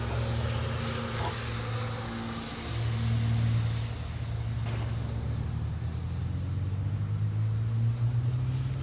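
Arrows RC 64mm Marlin model jet in flight at an open flying field: a steady whining turbine-like drone with a low rumble, the pitch sliding slightly as the throttle eases back.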